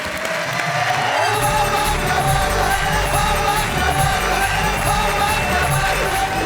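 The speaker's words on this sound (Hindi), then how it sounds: "जोरदार ताली" A Hindi poetry gathering audience claps and cheers as a poet is welcomed on stage, with a dense, sustained burst of applause and scattered whoops lasting several seconds, under background music.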